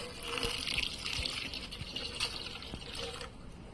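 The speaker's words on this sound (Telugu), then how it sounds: "ఇప్పుడు ఒక గ్లాస్ ఆఫ్ వాటర్ యాడ్ చేసుకుందాము" Water pours and splashes steadily into a blender jar for a few seconds with a gushing, filling sound, then tapers off near the end.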